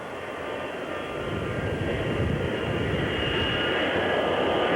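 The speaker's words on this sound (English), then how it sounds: "the noise you hear in the background is that of a commercial jet going out to take off" A commercial jet moving out for takeoff at Love Field airfield in Dallas, its engine roar a steady, broad rumble and whine that builds gradually in the background with no clear voices.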